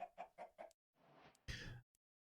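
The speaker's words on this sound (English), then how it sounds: "So we do have our red chickens." Red chickens in the Minecraft Stoneblock 2 modpack cluck in a quick run of four short notes, then a softer scratchy sound and a louder burst, close and clear with no talking.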